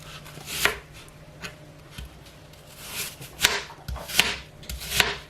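A knife slicing an apple on a chopping board, a series of crisp, close cutting thuds at uneven intervals, growing more frequent toward the end, with no talking.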